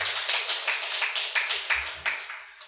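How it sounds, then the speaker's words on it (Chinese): An audience at a Buddhist talk on ghosts and gods gives a short round of clapping: about a dozen fairly even, quiet claps in a loose rhythm over a couple of seconds, with no talk over them. "很好，给他一个掌声"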